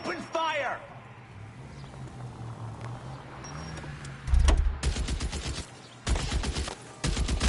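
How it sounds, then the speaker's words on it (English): Rapid bursts of automatic gunfire in the L.A. Noire video game erupt loud and close after a stretch of quieter game sound and voices, with two dense volleys separated by a brief pause. "Open fire!"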